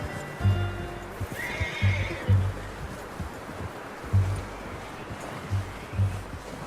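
A horse in Red Dead Redemption II whinnies once near the start while its hooves clip-clop in a steady, loud rhythm of paired thuds close by, with game ambience behind.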